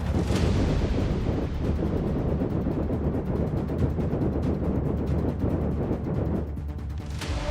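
Video-game autocannon fire in a sustained, dense barrage of rapid booming shots that runs almost unbroken and loud throughout, thinning briefly just before the end.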